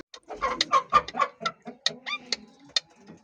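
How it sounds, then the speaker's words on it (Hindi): Pet parrot in a home cage giving a rapid run of harsh squawks and clucking chirps, close and fairly loud, in short bursts over a few seconds. "तोता हमारा जो है वो अभी भी शोर करता जा रहा है"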